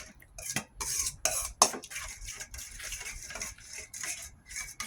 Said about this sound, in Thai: คนไปเรื่อยๆค่ะ เราก็คนไปเรื่อยๆ